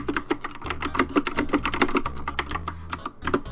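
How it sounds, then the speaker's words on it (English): Rapid, close-up clatter of fingers typing on a computer keyboard, a steady run of crisp keystrokes lasting a few seconds with no voices. "I'm typing."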